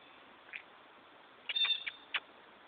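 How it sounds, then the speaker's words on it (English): A feisty cat meows in several short, close calls, one brief cry, then a longer wavering meow and a final short one, fairly faint against quiet room tone with no talk. "You're a feisty, happy cat."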